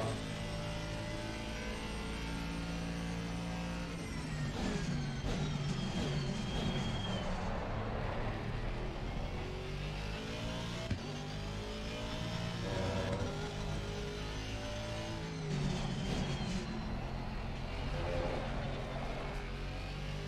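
Aston Martin V8 race car engine in the racing game ACC, a continuous loud drone with rising and falling revs and repeated gear shifts over about twenty seconds, with no talking.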